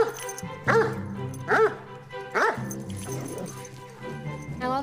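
A giant dog, billed as the world's largest, gives several deep, loud barks spaced about a second apart, with whimpering whines between them, close by and without talk.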